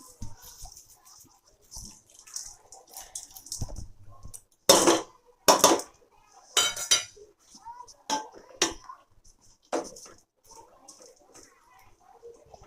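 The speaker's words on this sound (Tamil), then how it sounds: "கடலைப்பருப்பு கருவேப்பிலை ரெண்டுத்தையும் மேலே தூவி விட்டு ஒரு 5 நிமிஷம் மூடி வைக்கிறோம்." Chana dal and curry leaves sprinkled over a cooked dish, with clinks and clatters as a pan is handled and covered, scattered kitchen sounds mixed with talking.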